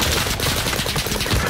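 Rapid automatic gunfire rattles through a Fortunes Keep match, a dense, loud and continuous burst of shots with no pause across the moment.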